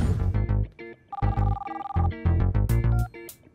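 A telephone rings in repeated electronic bursts, loud and close, with a steady tone running through the middle of the sequence.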